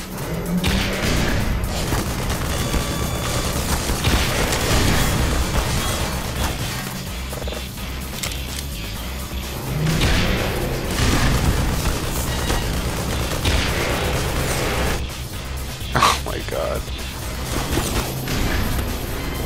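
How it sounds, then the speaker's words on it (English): Rocket explosions in the Half-Life video game, with repeated loud booms and bursts of gunfire crashing in waves over a rumbling game background. "he's shooting rockets right back at me."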